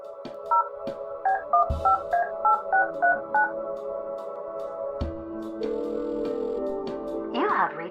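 Phone booth keypad being dialed in the video game Kathy Rain 2: a rapid series of distinct, clear touch-tone beeps in an irregular rhythm, followed by a steadier tone and a brief higher electronic sound at the end, over faint background ambience.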